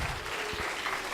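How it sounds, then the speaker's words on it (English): A brief burst of audience applause at a corporate HR recognition session: a wash of many hands clapping together, steady and moderately loud, lasting about a second. "Let's give a big round of applause"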